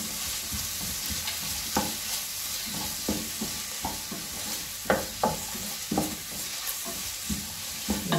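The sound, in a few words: onion with ginger garlic paste sautéing in a pan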